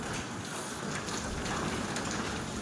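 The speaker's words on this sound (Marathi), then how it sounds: "अजून पण थोडा थोडा पाऊस पडतो आहे बघा" Light rain falls steadily in a garden near a holy basil plant, a soft, even patter of drops with no voices and no breaks from start to finish.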